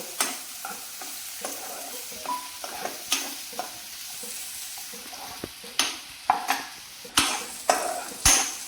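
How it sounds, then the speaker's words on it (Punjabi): Vegetables and chana dal lightly roasting in a pan, a soft continuous sizzle broken by sharp spoon scrapes and knocks that grow louder and more frequent toward the end. "ਇਹਨੂੰ ਆਪਾਂ ਹਲਕਾ ਜਿਹਾ ਭੁੰਨਦੇ ਆ"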